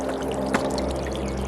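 A 4W solar fountain pump sprays water from its nozzle into a bird bath, giving a steady close splashing and trickling wash throughout, with a single brief louder splash partway through and no talking.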